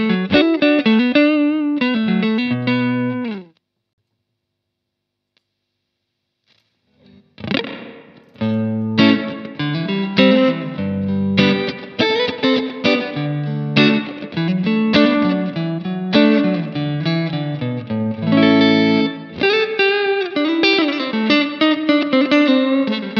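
Distorted electric guitar through a Macmull S-Classic into a Romany Pro tube amplifier, playing chords and riffs, loud and close, with a brief silent gap after the opening phrase before it resumes.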